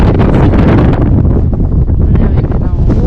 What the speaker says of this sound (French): Et maintenant, ouh, il y a du vent.